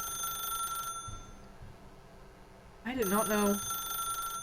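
A telephone rings in The Stanley Parable video game: a bright, steady electronic ring cuts out for a moment, then starts again. A voice speaks briefly as the ringing resumes.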